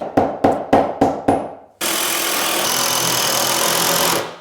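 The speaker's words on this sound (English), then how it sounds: "I think we'll just hammer it in, so it's nice and tight anyway." A hammer drives a wooden noggin tight into an alcove bed frame with five sharp, evenly spaced knocks, loud and close, followed by a long steady burst of power-tool whirring.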